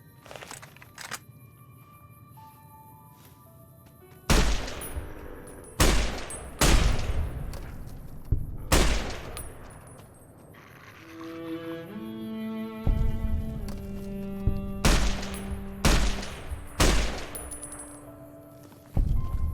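Semi-automatic weapon firing in Fallout: New Vegas, a series of sharp, loud individual shots spaced irregularly over a quiet ambient background, with ringing tonal game effects in between.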